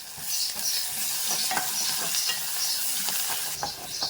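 Curry leaves, coriander and green chillies fry in hot oil in a pan for a mutton curry, a loud continuous sizzle broken by stirring scrapes and spatters, with no voices.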